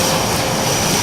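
An FMS F-35 Lightning v2 64mm electric ducted fan model jet screams at full throttle, a loud, steady, dense whine filling the whole moment with no talking.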